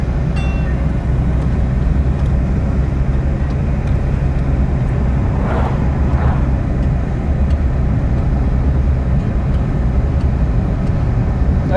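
A car driving along a highway through a fire-burned area with the windows down, producing steady loud road and wind roar with a low engine rumble throughout.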